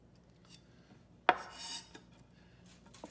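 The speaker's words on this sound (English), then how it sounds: "If I'm going to do garlic for like a pasta dish or something a la minute, I'm going to mince it like this" A chef's knife mincing garlic on a cutting board: a single sharp chop stands out, followed by a brief scraping rub and faint soft taps, fairly quiet, with no voices.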